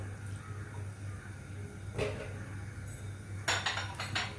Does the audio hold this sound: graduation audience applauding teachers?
no